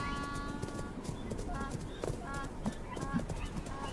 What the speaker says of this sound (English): Unique to the Qinghai-Tibet Plateau, they are Tibetan wild asses.